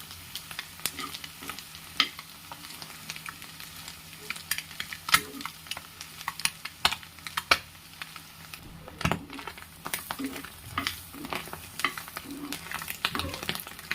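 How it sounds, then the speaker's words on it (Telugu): Fried eggs being stirred in a pan with spice powder and water in a home kitchen, a constant low sizzle punctuated by frequent sharp clinks and scrapes of a spoon, no voices. "ఎగ్స్ మంచిగా ఆయిల్లో వేగిన తర్వాత ఈ పొడంతా అందులో వేసుకోవాలి. నీళ్ళం కూడా ఇందులో వేసుకొని కలిపేసుకోవాలండి."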